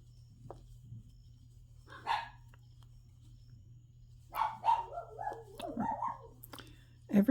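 Several dogs barking in a home, with short sharp barks and yips in scattered bursts that cluster toward the end, fairly close, over a steady low hum.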